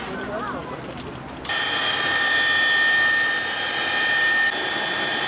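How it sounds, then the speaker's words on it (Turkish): A helicopter lands and takes off in front of a shopping mall, its turbine whine and rotor roar rising suddenly and holding steady and loud, with a voice talking over the start. "AVM'nin önüne bu kez helikopter indirildi."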